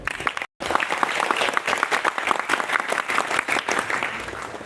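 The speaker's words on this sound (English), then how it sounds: "Let us give a big round of applause for them." An audience at a youth conference gives a big round of applause for choir groups, dense and steady clapping throughout with a momentary dropout near the start.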